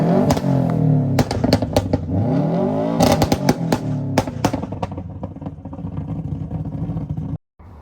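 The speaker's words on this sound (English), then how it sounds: "And then you've got the feature everyone asks for, anti-lag" A built Subaru with an anti-lag system revs hard, engine sweeping up and down, with sharp cracks and pops bursting out between revs, loud and close, before cutting off abruptly near the end.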